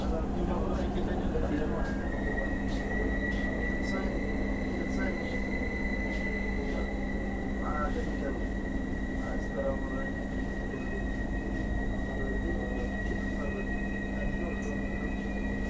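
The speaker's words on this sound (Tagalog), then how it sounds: "May isang parating ulit na tren." Low rumbling hum of a Riyadh Metro train arriving at Al-Iman Hospital Station, with a rising whine and steady rolling noise, a voice speaking faintly underneath.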